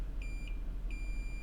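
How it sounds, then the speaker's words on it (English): Multimeter continuity probe beeping while rubbed under the turtle IC on an iPhone 7 board with a missing home button line, giving two short, clear electronic tones separated by a brief gap, alone over faint background hiss. "we can stick a probe in our missing line here and rub around under the turtle IC and get a beep"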